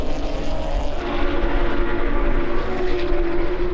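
GT4 race cars at BalatonPark circuit during an ESET Cup GT race, a steady loud engine roar sustained throughout as the cars pass, with no clear rise or fade.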